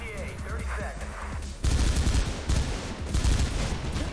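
Dense, loud bursts of gunfire from the video game Mirror's Edge, a rapid rolling fusillade that starts partway through, with a voice talking over it.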